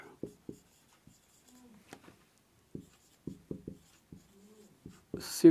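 Notes written by hand during a lesson: sparse, faint scratches and light taps of pen on paper in irregular bursts between quiet gaps, ending with a louder brief voice-like sound.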